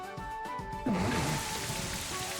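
Rain Dance move in Pokémon Scarlet: a game rain effect that rises abruptly into a steady hiss of falling rain over a background of tonal game music.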